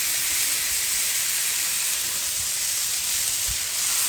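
Smash burgers sizzle on a Blackstone griddle, a steady, dense hiss that holds evenly from start to finish with a few faint low knocks beneath it and no one talking.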